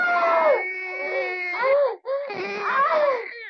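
Newborn baby crying loudly and close, two long wailing bursts separated by a brief breath, heard alone with no talk.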